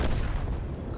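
A tank cannon shot in a video game on the Mirny-13 map: one heavy, booming blast at the start with a rumbling tail that fades over a second.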